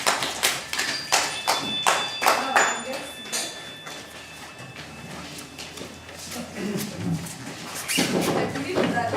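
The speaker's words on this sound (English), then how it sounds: "clap for yourself" A group at a business-for-health training session claps for themselves, a burst of many hands applauding up close, fading after a few seconds, with talk and a quieter second round of clapping near the end.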